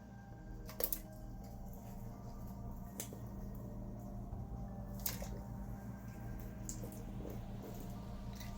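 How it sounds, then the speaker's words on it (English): Soft splashes and drips as potatoes are lowered into a pot of boiling water, over a steady low bubbling rumble and a few sharp clinks. "Place the potato in the boiling water."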